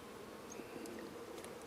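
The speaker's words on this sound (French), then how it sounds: "Les abeilles qui étaient avec, je les remets." Honeybees buzz in a steady, close hum during a beekeeping inspection as a few bees are returned to the hive, a continuous droning texture with no talking.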